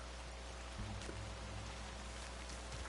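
Steady rain hisses at night in a PS4 video game, a soft, even wash of drops with a low hum beneath and no voices.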